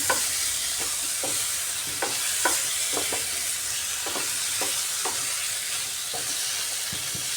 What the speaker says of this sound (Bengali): তিনটে চেরা কাঁচা লঙ্কা দিয়ে দিচ্ছি মশলাটা ফুটিয়ে আসছে কষাতে কষাতে